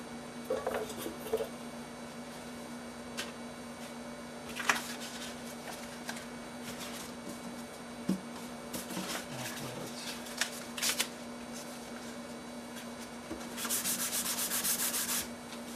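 Hand sanding of a Target EM6000 guitar body finish with sandpaper, soft scratchy rubbing strokes with occasional louder scrapes and a steady background hum, a denser burst near the end.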